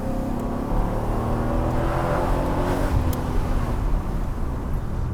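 A Mercedes-AMG SL60 of the R129 generation drives along, its engine a steady low rumble with road and wind noise, heard from inside the car at a moderate level throughout.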